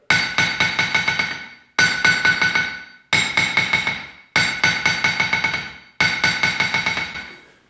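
A 2lb farrier rounding hammer strikes five times, and each strike rebounds into a rapid, fading run of bright metallic bounces before stopping.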